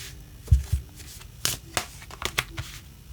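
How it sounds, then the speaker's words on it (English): Quick bursts of tarot cards riffling and slapping together, a few separate shuffles with short pauses between them, close and fairly quiet. "Another shuffle, they say."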